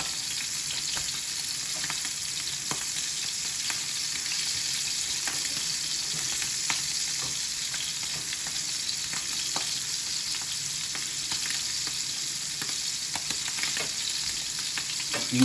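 Scallops sear in a hot pan, a dense, continuous crackling sizzle with scattered pops that stays loud and even throughout, with no voices.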